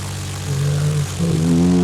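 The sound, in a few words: small propeller aircraft landing in crosswind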